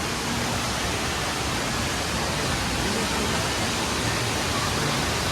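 Indoor waterfall inside the Mohegan Sun casino, a dense, constant broadband rush of falling water filling the space evenly with no breaks.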